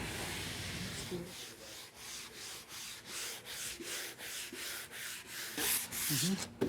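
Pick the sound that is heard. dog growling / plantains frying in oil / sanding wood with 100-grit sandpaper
sanding wood with 100-grit sandpaper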